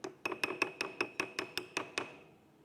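Small wooden cup tapped rapidly about ten times in an even rhythm, each knock short and dry with a faint ring, quiet and close, with no voices.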